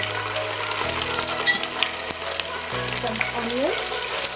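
Ginger garlic paste sizzles steadily in a hot pan, a dense continuous frying hiss close up, with faint background hum and no talking.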